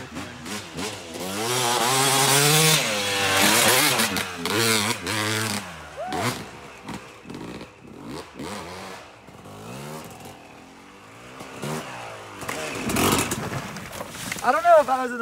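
A Yamaha YZ250 two-stroke dirt bike rides motocross berms, its engine revving and dropping repeatedly in loud, rising and falling wails that fade briefly between bursts before climbing again.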